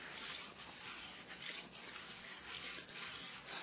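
Steady rhythmic rasping of a file stroked along the steel side edge of a ski, repeated back-and-forth passes from tip toward center, close and fairly loud with brief pauses between strokes.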